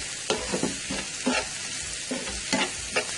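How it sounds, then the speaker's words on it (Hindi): Boiled boneless chicken pieces sizzle in a hot pan while a spoon stirs and scrapes them in a steady rhythm, close and fairly loud. "इसको भी हम साथ इस तरह हल्का सा भून लेंगे।"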